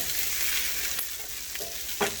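Drained potatoes sizzle steadily in a hot pan, a constant bright frying hiss with a few soft scrapes and knocks as they are stirred, no voices.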